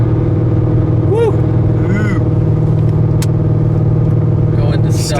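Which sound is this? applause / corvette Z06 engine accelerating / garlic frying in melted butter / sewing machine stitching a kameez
corvette Z06 engine accelerating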